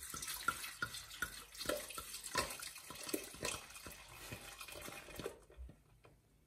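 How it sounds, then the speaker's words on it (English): Piña colada poured into a punch bowl for a rum party drink, making a steady close splashing and gurgling stream with little glugs, then stopping abruptly near the end. "So we start by putting in the pina colada."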